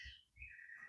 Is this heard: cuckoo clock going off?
yes